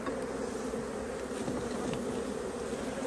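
Honey bees swarm around open hive frames in a dense, continuous buzz, close and steady with no voices.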